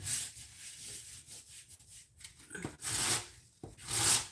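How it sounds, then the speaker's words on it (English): A metal biscuit cutter scrapes leftover flour off a surface in a series of close, dry rasping strokes, some louder than others, with short pauses between them. "Actually, this is just scraping it right up."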